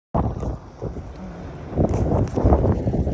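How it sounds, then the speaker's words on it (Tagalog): Strong wind buffets the microphone on a boat, a continuous loud rushing roar with gusty surges. "sobrang hangin"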